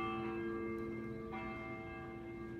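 Church bells ringing in Soho, London, a steady sustained peal with layered ringing tones continuing throughout, fairly soft and distant-sounding with no voices over it.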